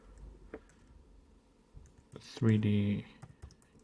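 Keys tap on a computer keyboard at close range, a few scattered clicks followed by a quick dense burst of typing, with a voice speaking over part of it.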